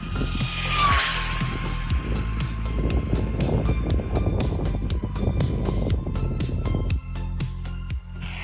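An HBX 16890A brushless RC car on a full-throttle speed run whines past, a rising high-pitched motor scream sweeping in, peaking close by, then dropping as it races away, with wind noise outdoors.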